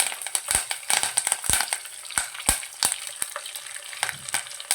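Curry leaves crackle and spit in hot oil while a tomato pickle is being made, giving a steady close sizzle broken by sharp pops and a few brief stirring clinks.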